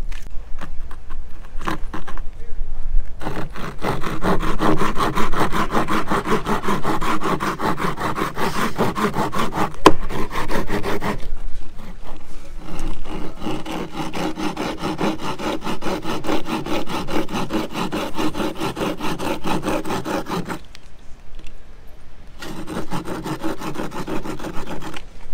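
A bow drill spins a wooden spindle against a wooden hearthboard under heavy downward pressure, giving a steady, loud, raspy grinding. Long strokes of the bow run back and forth, with short pauses between bursts.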